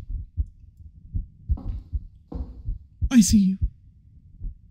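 Heartbeat sound in the horror video game Wrong Floor, a slow, steady run of low thumping beats that keeps pulsing under a player's nervous speech, which rises briefly in the middle.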